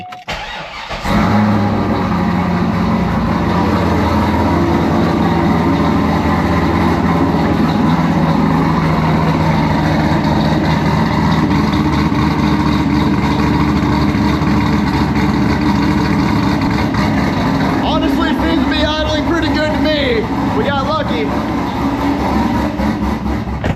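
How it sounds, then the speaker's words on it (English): A Corvette C5 sports car engine starts and settles into a steady, throaty idle that runs continuously, with faint chirping sounds appearing near the end. "Let's see if the car idles bad."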